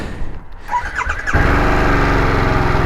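A 2021 Harley-Davidson Sportster S is started up: a short cranking whine gives way to the engine catching and settling into a loud, steady, close-up idle rumble that fills the rest of the clip.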